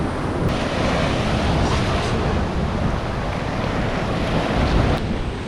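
Waves rolling onto an endless black sand beach on Costa Rica's Tortuguero coast, a continuous broad surf roar mixed with wind, steady and close with slight swells, no voices.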